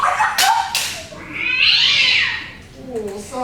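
A cat named Muffin gives a drawn-out, wavering meow that swells and fades, loud and close, with brief voices or sounds before and after it.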